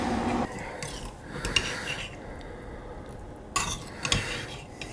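Cutlery and plates clink and scrape while beef stew with carrots, potatoes, onions, green beans, peas and mushrooms is served, a few close, sharp clatters separated by quieter pauses.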